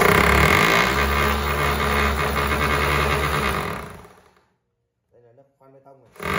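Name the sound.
3-function 220V rotary hammer in concrete chiselling mode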